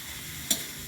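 Carrots, cabbage and beans added to pancit bihon noodles frying with beef: a steady close sizzle broken by one sudden brief hiss, with no talking.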